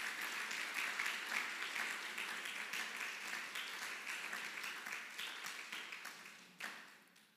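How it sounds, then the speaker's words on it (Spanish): A church congregation gives steady, moderately distant applause, many hands clapping in a dense, even patter that holds for several seconds before tapering. "Les brindamos un gran aplauso."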